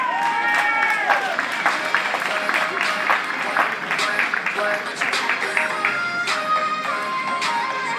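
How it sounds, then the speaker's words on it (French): A crowd applauds a race walker at the start of a long-distance walking race, a continuous spread of clapping and cheering under a voice talking over it. "Je vous demande d'applaudir le dossard 33, Sylvie Maison"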